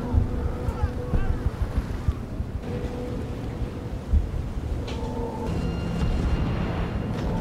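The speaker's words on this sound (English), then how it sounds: "The waves are coming in bad too." Ocean waves at sea in the war film Dunkirk wash and roar steadily under wind noise, with boat engine hum and scattered low thuds.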